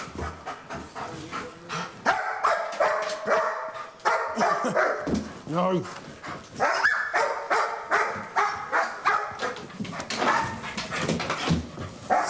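A police dog barks repeatedly and whimpers during an arrest of youths hiding in a ceiling, close and loud, with harsh bursts and yelps spread through the whole stretch.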